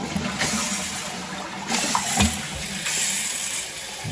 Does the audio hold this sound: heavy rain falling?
no